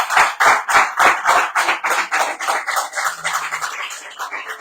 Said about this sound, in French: On peut donc les applaudir parce que ça,